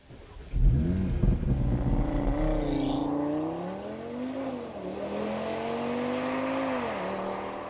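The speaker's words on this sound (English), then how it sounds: "That is what 0 to 60 in about 4 seconds looks and sounds like, courtesy of RS3's launch control system with dynamic drive mode engaged." A 2018 Audi RS3 launches from a standstill with launch control in dynamic drive mode, its engine roaring up through rising pitch sweeps, briefly dropping at gear changes, then climbing again, loud and close.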